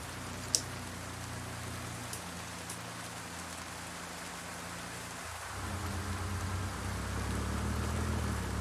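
Steady rain in the American Truck Simulator video game, heard at night on a Ruda 389 Glider truck's cab as a continuous patter over a low engine drone, thickening near the end, with a few faint drips.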